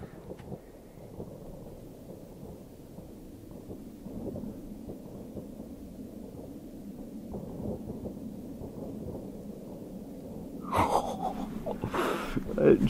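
A Jubelbox firework battery goes off on New Year's Eve 2020 as a continuous low, muffled rumble of booms, with sharper bursts near the end and people talking over it.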